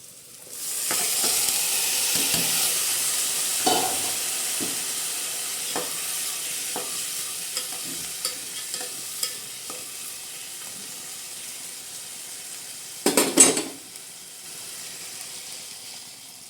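Usal, a sprouted bean curry for misal pav, sizzles steadily in a pan, a continuous hiss broken by scattered spoon taps and a brief louder clatter of stirring near the end, close and without speech.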